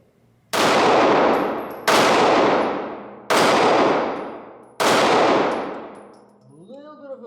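Springfield Hellcat Pro pistol fired at a range: four loud, sharp shots spaced about a second and a half apart, each ringing out with a long decaying echo, no talking.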